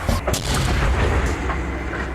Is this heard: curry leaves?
no